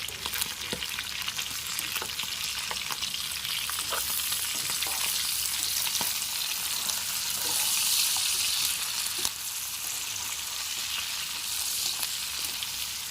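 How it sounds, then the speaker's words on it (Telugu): Mutton roast curry with curry leaves being stirred in a hot pan, a dense continuous sizzle and frying hiss with repeated scraping spoon strokes, close and steady throughout, with no voices. "ఇవన్నీ ఒకసారి పూర్తిగా కలుపుకుందాం బాగా ముక్కల్లో కలిసే విధంగా"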